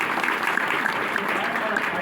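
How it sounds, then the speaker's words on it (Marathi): Audience applause at a Marathi kirtan, honoring the teachers who trained the performers, a continuous wash of crowd clapping heard from somewhat far off, steady for the whole stretch. "ह्यांना ज्यांनी घडवलंय त्याच्याकरता जोरदार टाळ्या वाजवा."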